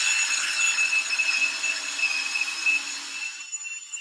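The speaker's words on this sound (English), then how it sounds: "the reason I'm drilling it first is so when I put the screw in, it doesn't split the wood" A small 2–3 mm drill bit pre-drilling a hole in wood, giving a steady, close, continuous high-pitched whine that runs unbroken for several seconds before cutting out abruptly near the end.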